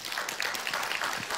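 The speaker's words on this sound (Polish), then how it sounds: "wielkie brawa" Brief burst of dense, continuous audience applause at a university cultural forum talk, steady and fairly close throughout.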